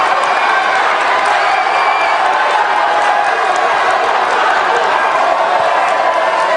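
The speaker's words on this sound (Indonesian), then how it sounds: "silakan berikan apresiasi dan aplaus dulu, biar semangat semua." Supporters at a campaign event for the Anies Baswedan and Muhaimin Iskandar presidential ticket cheer and applaud, a loud, continuous crowd roar that fills the whole stretch with no breaks.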